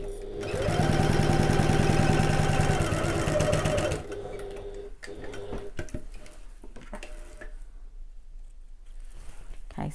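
A sewing machine runs a fast, steady buzzing stitch for about three seconds along the side edge of a fabric bag, then stops, leaving quiet handling sounds and faint room noise.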